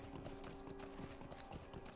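Faint steady clip-clop of horse hooves in a quick rhythm in the video game Lord of the Rings Online, with soft background tones and chirps.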